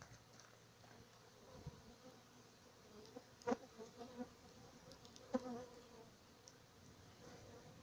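A swarm of jataí stingless bees clusters around a car exhaust pipe, giving a soft continuous buzzing drone with occasional louder passes as individual bees fly close, with no talking.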